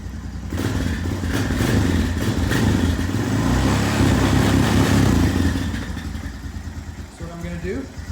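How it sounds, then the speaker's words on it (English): A 2014 Honda Recon TRX250TE ATV engine running as it warms up, a steady close chugging that stays even through the clip before easing slightly near the end, with speech underneath. "let the ATV run for about 5 minutes, got it up to temperature"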